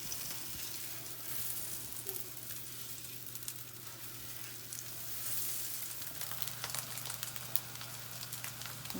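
Chocolate-filled pain perdu frying in a pan, a soft continuous sizzle with light popping, fairly quiet and even over the whole stretch, with no voices.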